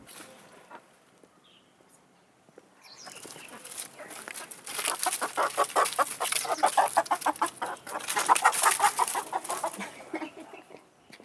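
Chickens cluck in rapid, building bursts on a countryside walk in Chongqing, China, rising from quiet rustling to loud close clucking and squawking.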